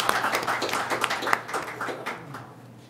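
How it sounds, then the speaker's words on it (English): Audience applause at a local government panel, a burst of many hands clapping close and loud, thinning out and fading toward the end. "can we give her like a big round of applause"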